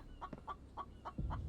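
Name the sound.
chickens clucking in the video game The Infected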